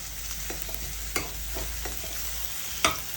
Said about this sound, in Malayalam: ചുവന്നുള്ളിയൊക്കെ എണ്ണയിൽ നല്ലോണം മൂപ്പിച്ച് നല്ലോണം ഒന്ന് മൂക്കണം